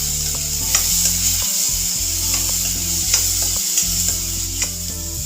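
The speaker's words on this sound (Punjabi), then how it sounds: "ਆਪਾਂ ਟਮਾਟਰ ਨੂੰ ਤੇ ਪਿਆਜ਼ ਨੂੰ ਹਲਕਾ ਭੁੰਨ ਲਾਂਗੇ" Tomato and onion frying lightly in a pan for macaroni pasta, a constant sizzle with rhythmic stirring scrapes against the pan, close and steady with a low hum underneath and no talk.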